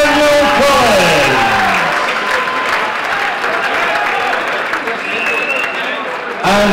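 A boxing crowd at St Andrew's Sporting Club in Glasgow roars and applauds loudly after the result of Nathaniel Collins against Jordan Ellison. The applause is sustained and dense, with an announcer's amplified voice over it near the start.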